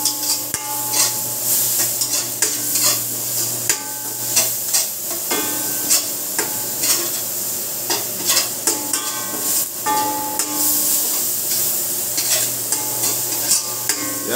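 Onions and garlic sautéing in a pan for pork belly hamonado, a steady close sizzle with frequent stirring scrapes and light utensil clinks throughout, no talking.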